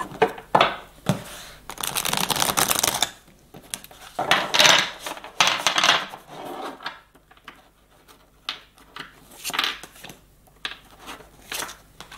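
Tarot cards are shuffled by hand for a reading, with repeated bursts of riffling and slapping card noise separated by short pauses, close and fairly loud.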